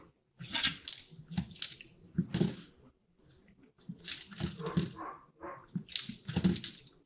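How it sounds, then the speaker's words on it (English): Several dogs on a farm bark in repeated bursts at neighbouring farm animals, loud and fairly close, with a short quiet gap partway through and no talking. "my dogs go crazy. Dogs go crazy."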